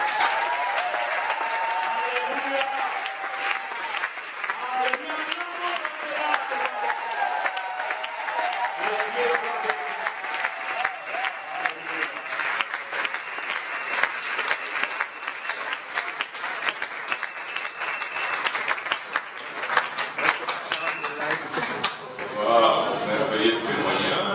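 A church congregation applauds in sustained, dense clapping that continues for the whole stretch, with crowd voices mixed in.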